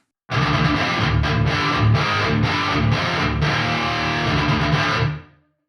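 Loud, heavily distorted electric guitar chords through a Soldano SLO-100 amp with room send engaged, played in a steady rhythm with brief breaks, then a short fading tail.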